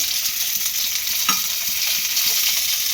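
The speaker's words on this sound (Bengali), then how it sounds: "তেলটা বেশ গরম হয়ে গেছে এখানে দিয়ে দেবো আমি একটা কেটে রাখা বেশ বড় সাইজের টমেটো" A large chopped tomato fries in a little very hot white oil, giving a steady close sizzle with one sharp spatter near the middle and no voices.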